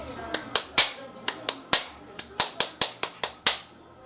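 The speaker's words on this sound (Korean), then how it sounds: "요거 다 같이 한번 해볼까요? 337 박수 여러분 아시죠?" A Korean audience claps the 337 rhythm at a charity donation relay event: three sharp claps, then three more, then a run of seven, each crack crisp and close with short gaps between the groups.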